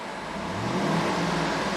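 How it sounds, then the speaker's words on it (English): The 6.2-liter V8 of a 2010 Cadillac Escalade ESV revs up steadily from idle, a loud, close, continuous engine roar with rising pitch and no talk. "I'm going to rev the engine."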